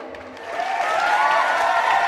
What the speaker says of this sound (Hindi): तालियों से उसका मनोबल बढ़ाइए।